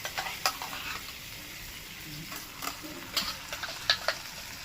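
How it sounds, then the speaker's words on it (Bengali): A fish head sautés with spices in a pan, giving a steady fizzing sizzle with light scraping and clicking strokes of a spoon stirring it. "মাছের মাথার সঙ্গে মশলাটা একদম পুরোপুরি কষা হয়ে গেছে"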